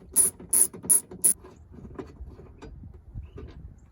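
A ratchet loosens a 13 mm bolt in the engine bay of a Chevy 5.3 V8, four quick loud bursts of clicking up close followed by softer, scattered mechanical clicks and fumbling.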